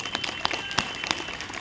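Audience clapping at a railway trackmaintainers' union safety meeting in Delhi division, a short patchy burst of scattered claps rather than a full ovation, moderately close with a faint room hum underneath.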